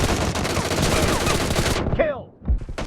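Rapid automatic gunfire in the video game PUBG, a dense, loud burst of shots lasting nearly two seconds, then a short ricochet-like whine and a couple of isolated shots, with a voice briefly mixed in.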